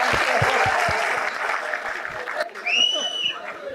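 Audience applause at a standup comedy show, a dense wash of clapping that fills the first half and then thins out as voices and cheers carry on over the crowd.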